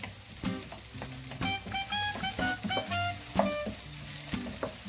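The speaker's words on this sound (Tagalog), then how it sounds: "Gising na natin muna sibuyas." Onions sauté in a pan at the start of a sinigang, giving a steady close sizzle with bright clinks and stirring taps throughout.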